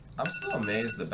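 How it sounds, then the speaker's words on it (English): A phone alarm rings with steady electronic tones, partly masked by someone talking over it. "Oh, that was my alarm going off telling me I flip over my laundry"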